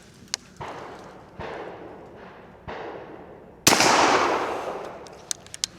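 A .410 Beretta 686 Silver Pigeon over-and-under shotgun fires during pattern testing at an outdoor shooting ground, several sharp reports with echoing tails, the last one louder and closer, followed by small clicks.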